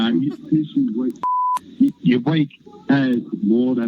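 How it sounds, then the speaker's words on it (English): A single steady censor bleep tone, about a third of a second long, cuts cleanly into a man's conversational speech to mask a swear word, with talking on both sides of it. "we had to beep it out there because he used a pretty strong word"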